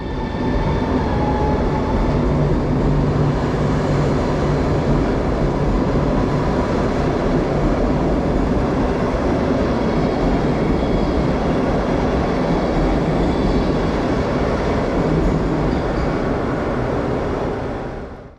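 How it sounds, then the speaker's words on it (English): A PKP Intercity Express Intercity Premium Pendolino set pulls away from a station platform, a steady loud rumble of rolling stock with wheel and rail noise holding constant throughout before easing off at the very end. "departing here is an Express Intercity Premium new Pendolino set"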